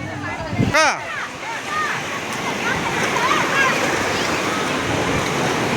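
Sea waves wash continuously onto Velankanni beach, a broad, steady surf roar close by, while people talk and call out over it near the start.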